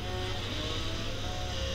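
Lamborghini Aventador J engine from the Need for Speed Most Wanted racing game, a steady continuous drone held at an even level throughout with no talk over it.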